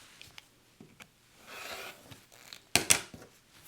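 Scissors snip through fabric scraps for a quilted holiday ornament, a few soft cuts ending in one sharp, close snip near the end.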